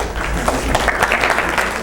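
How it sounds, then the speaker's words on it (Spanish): Listeners clap during a lecture on evolutionary game theory, a brief, loud and fairly steady burst of applause that fills the space. "No me aplaudan por eso, que me voy a acostumbrar."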